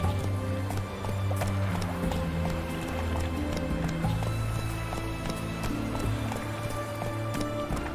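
Roach the horse galloping in The Witcher 3, rapid rhythmic hoofbeats clip-clopping close and steady throughout, with occasional snorts and someone speaking over it.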